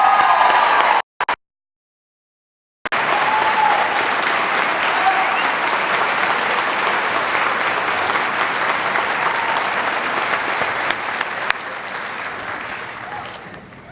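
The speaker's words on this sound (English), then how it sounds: "Please join me in giving a warm and hearty round of applause for the efforts of your dedicated and outstanding faculty" Sustained, dense audience applause for the faculty at a university winter commencement ceremony, loud and even after a brief silence, continuing for over ten seconds.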